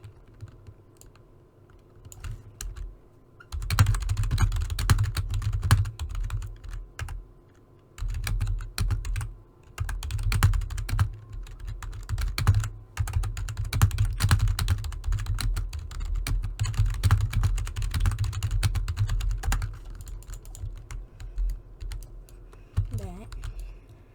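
Rapid, uneven keyboard typing clatters on and off for the whole stretch, close by, with brief pauses between runs of keystrokes.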